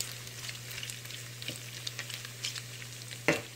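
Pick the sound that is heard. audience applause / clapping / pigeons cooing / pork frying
pork frying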